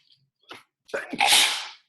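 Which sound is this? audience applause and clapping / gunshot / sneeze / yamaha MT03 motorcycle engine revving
sneeze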